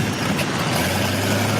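Police helicopter engine sputtering as it runs out of fuel in a TV drama, heard as a steady, loud, droning rumble with a constant low hum, sounding more like an idling old car or diesel tractor than a turbine.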